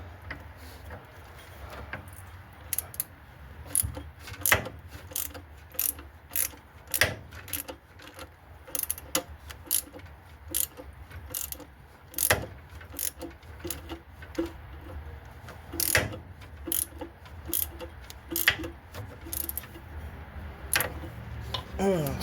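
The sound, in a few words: hand ratchet loosening a bolt on a Chevrolet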